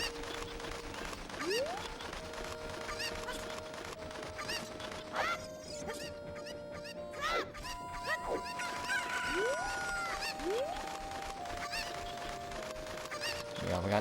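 Repeated rising honks and squawks from a Cucco chicken in the Zelda: Ocarina of Time game, loud and close, arriving in quick separate bursts over steady game background sound.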